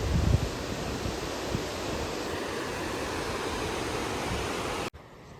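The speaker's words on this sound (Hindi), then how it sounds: "पीछे नदी इतना शोर करते हुए बह रही है" A river rushes noisily through a Himalayan mountain gorge on the Rupin Pass trek, a dense, continuous roar of water heard from nearby that stops abruptly just before the end.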